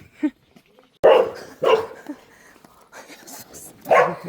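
A dog barks near a glamping site outside Pula, Croatia, in several short, sharp bursts spaced out over a few seconds, while people talk in between.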